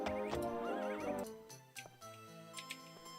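A horse in the video game Daggerfall gives a loud, wavering whinny, followed by softer hoof clops and a faint jingle of tack.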